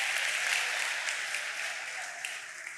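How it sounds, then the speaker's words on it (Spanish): Audience applause at a motivational talk fills the whole stretch as a steady, dense wash of many hands clapping, fairly even in loudness and slowly easing toward the end, with no talk over it. "Vamos a darle un aplauso a estos héroes que se casaron con la novia de su juventud."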